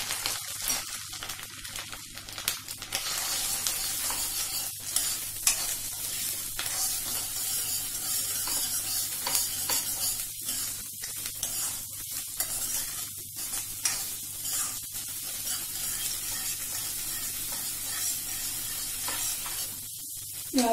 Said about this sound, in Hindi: प्याज को ज्यादा ब्राउन नहीं करना